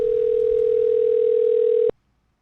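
A steady, loud telephone dial tone hums alone for almost two seconds before cutting off abruptly as a phone call to a radio podcast is placed.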